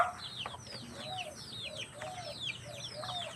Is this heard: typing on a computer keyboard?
no